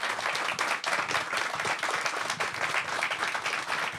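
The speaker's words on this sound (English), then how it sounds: "So can we just get a massive round of applause?" An audience at a round-table panel event gives a sustained round of applause, dense overlapping claps holding at an even level for the whole stretch.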